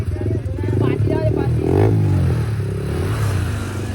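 A motorcycle engine revs and strains nearby as the bike is pulled out of a stuck spot, its pitch rising and falling while a person talks over the noise.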